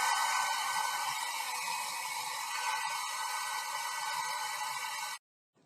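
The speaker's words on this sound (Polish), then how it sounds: "Bierzemy suszarkę, rozgrzewamy to sobie." A hair dryer blowing steadily at close range, heating an alloy wheel center cap badge, a constant loud whoosh that cuts off abruptly into silence near the end.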